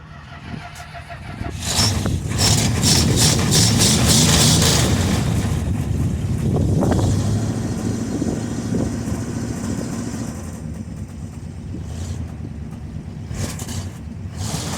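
An old car, left sitting in sub-zero cold, cranks over and catches, its engine then running loud and rough at a steady idle for the rest of the clip, with wind noise against the microphone.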